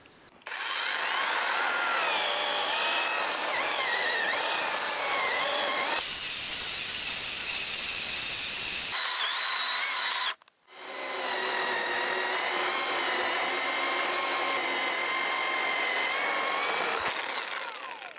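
A battery-powered saw cuts through a small log in a forest clearing, its high motor whine running steadily, dipping briefly mid-cut, then resuming loud and close until the piece drops.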